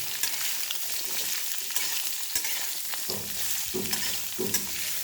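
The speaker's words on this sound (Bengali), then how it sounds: "এগুলো গরম তেলের মধ্যে দিয়ে একটু নাড়াচাড়া করে ওই মশলাগুলো একটু কড়াইয়ে নেড়ে" Spices stirred and fried in hot oil in a wok for a pickle: steady sizzling with repeated scraping stir strokes, which grow louder and more pronounced in the second half.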